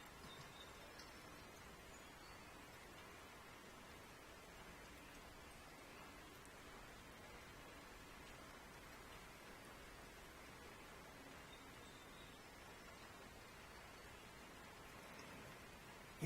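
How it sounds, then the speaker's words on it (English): Rain falls outside a meditation retreat in Springwater, a faint, even hiss of drops continuing unbroken and distant for the whole stretch, with no voices. "You don't have to listen to the rain. It's just raining."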